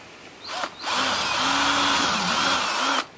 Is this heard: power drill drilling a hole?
yes